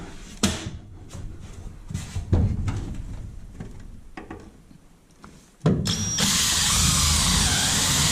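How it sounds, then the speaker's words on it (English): A power drill whirs in short bursts drilling holes in a jon boat subfloor, then runs loud and steady for the last couple of seconds, close by. "And we'll just take our drill."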